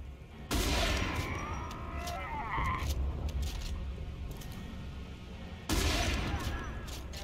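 Bursts of video game gunfire from Homefront: The Revolution crackle in loud broadband volleys, one at the start and another near the end, with murmuring voices and background noise between them.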